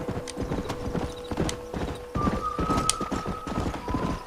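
Horse hooves clip-clop steadily at a riding pace in the Red Dead Redemption video game, close and fairly loud, with brief whinny-like tones and ambient game sound layered over the rhythmic clatter.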